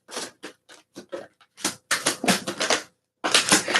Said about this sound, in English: Now my lap is full of cards.